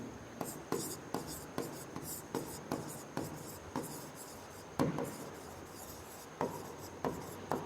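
A pen writing on paper during a class 10 trigonometry lesson, heard as short, regular scratching strokes in quick bursts, close and distinct, with no speech over them.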